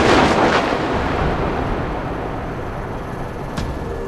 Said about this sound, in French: un violent orage l'oblige à modifier sa trajectoire